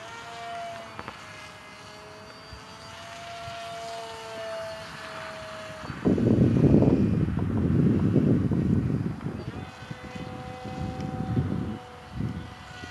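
Electric motor of a small RC model airplane run at slow throttle, a faint whine steady at first, then louder, rougher rushing from about six seconds, with gusty wind noise through the back half.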